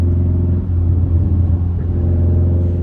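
A Mazdaspeed 3 car engine runs with a steady, deep low rumble, close and continuous, with no voices.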